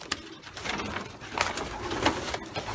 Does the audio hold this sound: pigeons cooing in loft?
yes